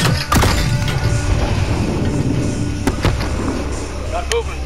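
Explosions and blasts in Call of Duty: Modern Warfare, a couple of sharp bangs over rumbling low booms and battle noise, close and loud, with shouted voices in the mix.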